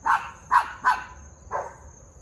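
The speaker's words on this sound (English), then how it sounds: "my dog, please be quiet." Dog barking indoors, four sharp barks in quick succession with a brief gap before the last, fairly close against a quiet room background.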